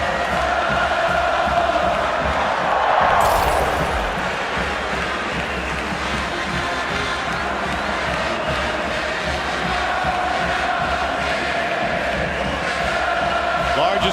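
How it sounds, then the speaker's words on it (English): Massive stadium crowd roaring at a college football bowl game between Tennessee and Purdue, a sustained loud wash of cheering under a commentator's talk. "Largest crowd in the history of this bowl game, and likely the loudest"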